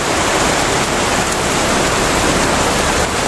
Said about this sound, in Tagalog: inabutan kami ng malakas na ulan